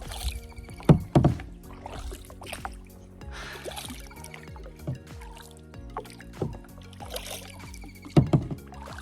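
Kayak paddling on a scenic lake, with soft rhythmic paddle splashes and drips recurring every few seconds over a quiet background of layered tonal hum, no voices.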